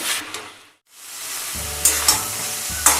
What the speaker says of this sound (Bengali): ওই গুঁড়ো করা মশলাটা দিয়ে ভালো করে মিশিয়ে নেব